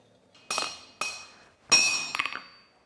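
A hammer strikes a family forge-mark stamp onto a hand-forged auger, giving sharp metallic clinks: two separate blows, then a heavier ringing strike followed by a few quick lighter taps, close and clear in a quiet room.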